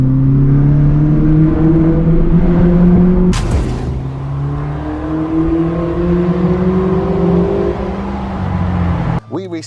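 A Ford RS police car fitted with a modified aftermarket exhaust revs loudly and steadily nearby, its engine note rising and holding with a sharp burst partway through before the revving cuts off near the end.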